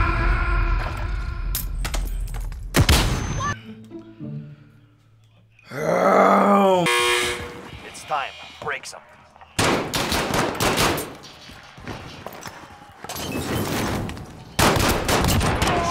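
Gunshots in Call of Duty Warzone, loud bursts of rapid automatic fire in several volleys separated by pauses, mixed with other game sounds and a groaning effect.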